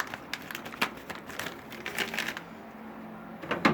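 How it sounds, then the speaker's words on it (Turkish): Crinkly plastic rustling and crackling in short bursts, close by, as a plastic bag of soda is carefully opened; no talking. "İlk önce dikkatli bir şekilde poşeti açıyorum"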